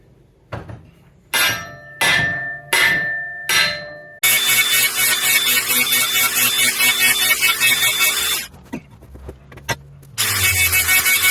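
Garden tool handle banged back off by hand: a few separate hard knocks, then a long loud clattering, scraping rattle, a brief pause with single clanks, and more rattling at the end, close up with no talk.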